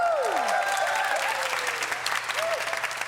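Audience applause at a church youth worship team performance, sustained clapping throughout, with tonal swoops and a faint voice layered over it.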